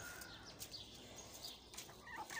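Chickens on a rooftop clucking and squawking in short bursts, several birds at moderate distance amid a noisy background.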